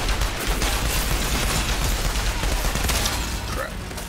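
Sniper fire in the shooter game Outriders crackles in rapid overlapping bursts, loud and close, forming a continuous volley for a few seconds before easing off.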